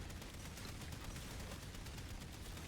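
Gunfire rattles while shooting enemies in the video game Cyte-09, quiet, dense and continuous rapid shots without any voice.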